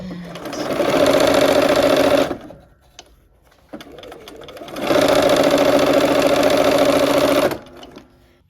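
A sewing machine stitching quilt blocks runs in two loud, steady bursts of rapid whirring and needle clatter, each about three seconds long, separated by a pause with faint handling noises, heard close and with no talk.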